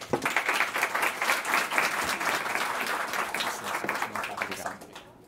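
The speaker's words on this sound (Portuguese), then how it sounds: "Uma salva de palmas." An audience at a panel session applauds the incoming FAO director, a dense, steady round of clapping lasting several seconds before tapering off at the end.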